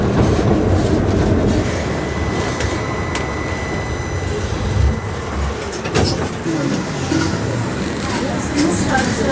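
A tram rolling along its rails through Sarajevo, heard from inside near the rear, a loud continuous rumble with rhythmic clacking over rail joints and some metallic squeal, with faint voices in the background.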